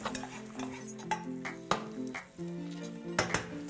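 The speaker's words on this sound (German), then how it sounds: "Scharf anbraten." Vegetables sizzle loudly as they sear in a hot frying pan with margarine while a utensil stirs and scrapes against it, close up and continuous, with no voices.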